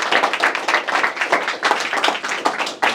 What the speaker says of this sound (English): Can you give a random applause for Arin?